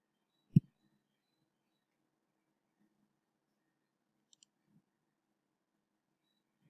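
A single computer mouse click sounds near and crisp in a quiet room, followed by a couple of faint, softer clicks a few seconds later.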